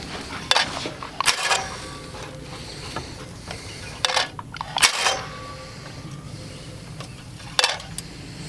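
A White Wing automatic clay target trap runs with a few sharp mechanical snaps and clacks spaced several seconds apart over a low motor hum, close and moderately loud.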